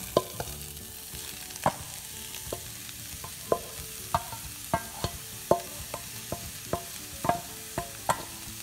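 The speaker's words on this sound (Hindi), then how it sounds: "अब मैंने पैन स्टोव पे रख दिया है और स्लो फ्लेम कर दिया है और अब मैं ये जो लौकी है वो इसमें डालूंगी पैन।" Grated bottle gourd stirred in a pan over a low flame on a stove for halwa: a soft steady sizzle broken by repeated sharp scrapes and taps of the spoon against the pan, close up, with no talking.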